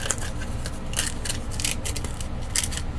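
A sheet of 80 grit sandpaper is folded by hand up close, giving a series of crisp, papery crinkles and scratchy rustles spread unevenly over a few seconds over a low background hum.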